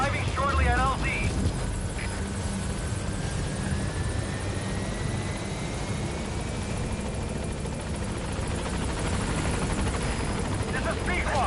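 A Pequod helicopter from Metal Gear Solid V arrives at the landing zone with a loud, steady rotor and engine roar that fills the whole stretch, with brief voices near the start and end.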